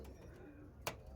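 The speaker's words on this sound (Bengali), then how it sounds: "আন্ধ্রার কালাঙ্কা পায়রা" An Andhra Kalanka pigeon gives a soft, low coo that hums on steadily for about a second, followed by a brief sharp sound, with a faint background murmur.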